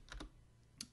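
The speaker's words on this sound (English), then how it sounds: "And then you type in your password" Three quick, soft clicks come from keys pressed on a computer keyboard while a password is typed, close and faint, with no voices.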